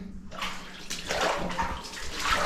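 Steady sloshing and splashing of water as someone wades through a flooded underground mine passage, continuous and close, filling the whole stretch without talk.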